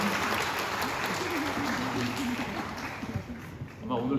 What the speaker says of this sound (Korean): 우리 좀 박수로 격려해 드릴 텐데요